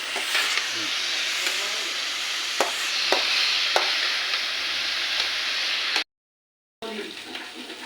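Curry simmering and sizzling in a pan, with a steady bright hiss and a few sharp scrapes and clinks as it is stirred, brief silence near the end before the sizzle resumes.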